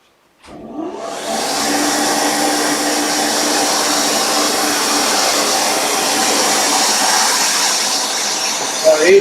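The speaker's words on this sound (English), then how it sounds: "I'll turn the dust extractor on." A woodworking dust extractor starts up in a workshop and runs as a loud, steady roaring whine that holds evenly for the rest of the stretch.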